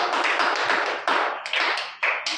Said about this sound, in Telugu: గట్టిగా చప్పట్లు కొడతాను దేవుని.